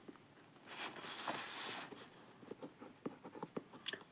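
Pen scratching across paper while an equation is written by hand, close and fairly quiet, a continuous stroke followed by short separate marks.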